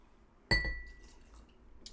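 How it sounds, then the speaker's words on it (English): A whiskey glass clinks once sharply, leaving a bright ringing tone that fades over about half a second, with a faint second tap near the end; close and alone, no talking. "So let me rinse my glass."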